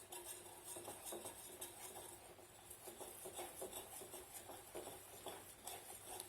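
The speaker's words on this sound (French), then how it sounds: "Et on mélange au fouet, donc on mélange au centre." A whisk clinks steadily against a bowl while flour and eggs are worked into crêpe batter, a quiet, rapid metallic patter heard close with no voices.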